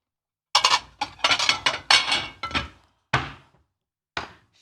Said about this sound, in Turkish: Bir tane daha tabak alıyorum.